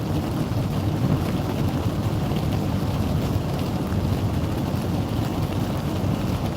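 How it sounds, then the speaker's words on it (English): Rain and snow falling together during a drive on a December day, a steady broadband wash like precipitation and road noise hissing continuously with no talk over it. "It is now raining and snowing at the same time."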